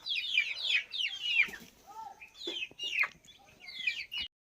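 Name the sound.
chickens clucking in their room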